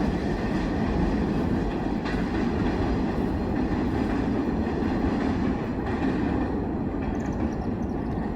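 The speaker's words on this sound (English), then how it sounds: "That was a fast-moving train" A long, fast freight train passes close by in a continuous, loud rushing roar with rhythmic wheel clatter over the rails, unbroken from start to finish, with no voices.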